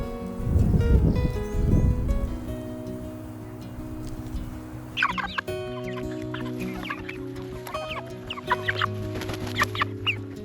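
Meat chickens free ranging on green pasture inside a hot fence in far northern California, several birds clucking steadily and fairly close, with rustling and busier chatter building in the second half.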